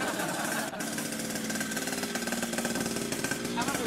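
A motorcycle engine runs with a steady, rapid rattling throb, holding a fairly even pitch throughout at close range.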